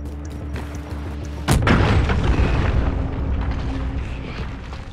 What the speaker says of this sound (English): Cruise missile ready to launch.